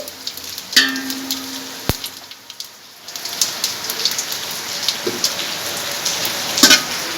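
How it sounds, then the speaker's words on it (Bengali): Crackling, popping sizzle of bay leaves, dried red chillies and whole cumin frying in hot oil, with sharp spits and clicks over a soft steady hiss, close by. "দুটো তেজপাতা দুটো শুকনো লঙ্কা আর একটু গোটা জিরে ভেজে নিচ্ছি"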